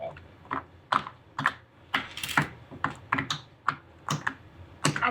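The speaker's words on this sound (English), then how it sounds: "they just sound good and I really like how they just pop down" Rapid small pops and clicks of a silicone pop-it fidget toy being pressed, an uneven series of soft snapping sounds close by.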